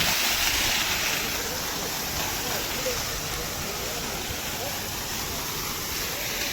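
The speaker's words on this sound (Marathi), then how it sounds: "बघू शकता हा तुम्ही पाणी प्रेशर एकदम मस्त पाणी प्रेशर मारलेलं आहे" Water gushing under pressure from a Mira Energy 5 HP solar pump. It makes a loud, steady broadband rush with no break, close to the listener and covering everything else.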